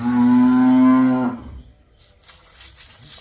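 A cow on a farm where cows are kept and sold lets out one long, loud, close moo lasting over a second, followed by quiet farmyard background with faint rustling.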